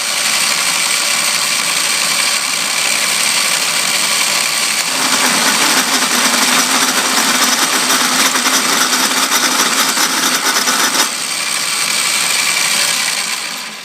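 Milling on an Atlas lathe while making ATV brackets: a steady motor whine runs throughout, with a louder grinding cutting stretch in the middle before it eases back to the spinning drone.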